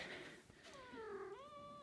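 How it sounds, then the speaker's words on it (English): A cat meows in a basement: one drawn-out call, close but fairly quiet, that rises and bends in pitch, with no other sounds around it. "My cat."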